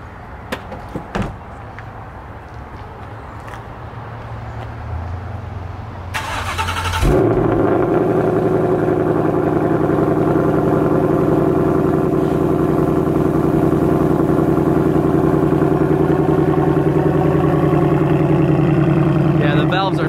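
A Ford Mach 1 Mustang's engine cranks and fires at about seven seconds, then settles into a loud, steady, rumbling idle with the exhaust valves shut. A few faint knocks and voices come before the start.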